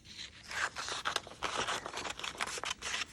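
Scissors snip through small paper postage stamps during a paper-sewing craft session, giving a quick series of close, crisp cuts and light paper rustles with no talking.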